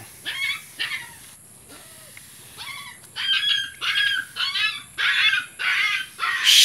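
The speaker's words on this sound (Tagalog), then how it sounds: "May mga aso." Dogs outdoors beside a garden pathway give high whimpers, yips and short barks in irregular bursts, faint at first, then louder and more frequent toward the end.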